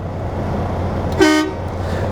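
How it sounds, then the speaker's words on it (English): Air horn on a CDL training truck blasts once briefly, a loud tonal honk of about a quarter second standing out over steady low cab and engine rumble. "Air horn's working properly."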